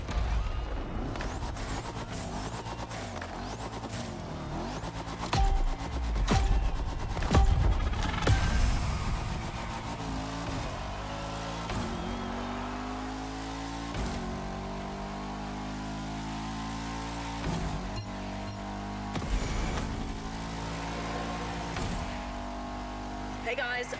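Bugatti Veyron Barchetta hypercar concept driven in The Crew Motorfest racing game, its engine revving and shifting through rising and falling sweeps, loud and close throughout with sharp gear-change breaks, while a voice talks over it.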